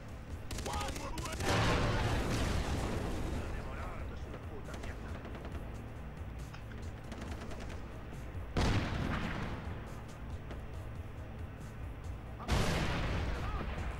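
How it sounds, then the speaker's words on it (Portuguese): Gunfire and explosions in the video game Far Cry 3 during co-op play: dense bursts of rapid shots and heavy booms, loud and sustained, with sharp blasts near 8.6 s and 12.5 s, while players talk throughout. "Ignore as bombas, ignore os tiros."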